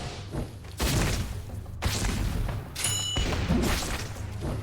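Explosions strike a boss in a roguelike video game, producing three heavy booming thuds about a second apart, each trailing into a dense rumble.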